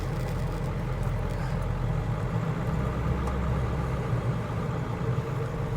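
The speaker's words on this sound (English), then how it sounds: "Motor sounds good, sounds strong" A 1997 Ford F-250 7.3L Powerstroke diesel engine runs steadily at close range, a deep continuous rumble with a low throb that holds constant throughout.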